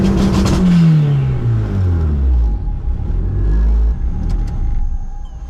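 A nimble, go-kart-like performance car revs hard while driving, its engine note sweeping down through the gears with a loud, close, rumbling growl and brief renewed surges.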